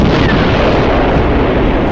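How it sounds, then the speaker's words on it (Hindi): Cartoon bombs dropped from above explode on zombies, a continuous loud, dense roar of blasts with no pauses and no speech. "सोन और जंडू चाचा भी ऊपर से ज़ॉम्बीज़ पे बम गिराने लगते हैं"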